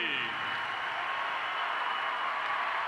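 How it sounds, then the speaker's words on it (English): A Duke basketball arena crowd after a game gives Coach Mike Krzyzewski a steady, broad wash of applause and cheering, heard at a distance and continuing without break. "a Blue Devil round of applause for Mike Krzyzewski"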